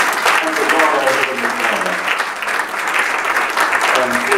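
Church congregation applauding together, a steady dense wash of clapping from a large crowd that holds loud throughout, with a voice speaking over it.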